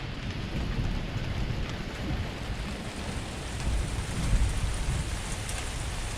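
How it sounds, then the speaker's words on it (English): A heavy rain and thunderstorm in May: a dense, steady rain hiss with low rumbling thunder swelling near the end, with no voices. "it started to rain, and now we've got a thunderstorm."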